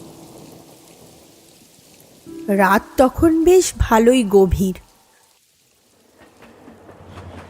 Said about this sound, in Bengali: এমন সময় দেখলাম আকাশে মেঘের গর্জনের শব্দ হচ্ছে।